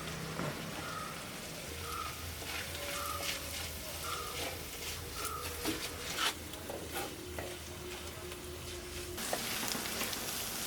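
Green chilies and softened sliced onions frying in a pan, a steady close sizzle with light crackle and occasional stirring scrapes, continuous throughout without talk.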